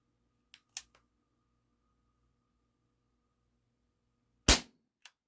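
Umarex XCP CO2 air pistol in 4.5mm firing at a target: two sharp pops, a lighter one followed by a louder one a few seconds later, each with a brief click, close and with no talk.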